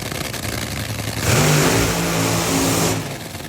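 A Monster Energy Top Fuel Dragster driven by Brittany Force revs at a drag strip, a loud surge that builds, holds for a second or so and then falls away over a steady background.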